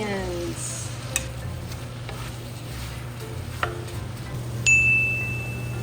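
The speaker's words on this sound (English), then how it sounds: "to the hot sizzling butter, then go all of those onions." Onions and mushrooms sautéing in hot butter in a pan, giving a steady close sizzle with soft stirring scrapes, a few clinks of utensils and a brief metallic ding near the end.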